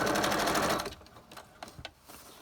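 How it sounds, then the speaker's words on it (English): A sewing machine runs a straight stitch around a window frame on a pocket, a dense, steady whir for about a second that stops abruptly, followed by a few faint clicks and handling sounds. "I'm just going to do straight stitch around where that frame is"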